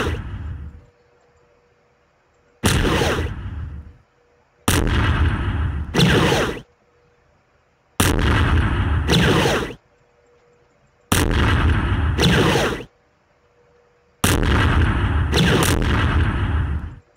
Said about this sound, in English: this artillery can be used